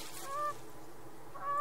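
In the survival video game The Forest, a duck on the water gives two short, nasal honking calls spaced about a second apart, moderately close over a quiet ambient background.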